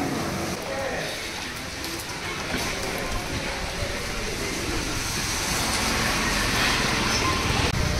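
Rain falls outdoors with a steady, broad hiss that keeps going and swells slightly toward the end, while people talk faintly beneath it.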